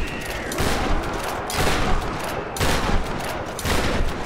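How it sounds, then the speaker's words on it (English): Enemies firing guns at the player in Tomb Raider, loud rapid bursts of automatic fire in several waves with brief gaps between them. "They're shooting."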